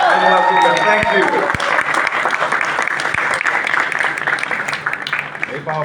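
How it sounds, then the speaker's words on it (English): A large audience at the Bambai Meri Jaan trailer launch, with Kay Kay Menon, Avinash Tiwary and Kriti present, claps in a loud, dense round of applause that goes on throughout, with a voice speaking over it. "How do we appreciate it? With a huge round of applause."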